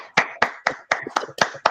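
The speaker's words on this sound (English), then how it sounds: "Go ahead, clap it up for Brittany." Seven separate sharp handclaps sound in a slow, roughly even rhythm, close and distinct, as a small group claps for Brittany.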